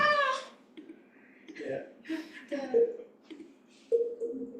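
A recording of a cat is played back in a classroom, with several separate meows and softer whining cries at moderate volume.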